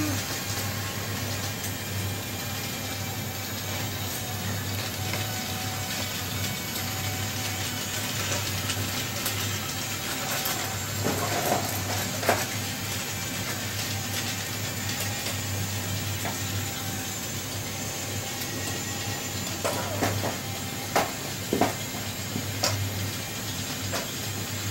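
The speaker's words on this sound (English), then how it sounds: "the Teal train with 5 cars within 2 laps" Toy Disney monorail playset trains with upgraded high-speed motors running around the track, giving a steady buzzing motor hum with small clicks and rattles throughout.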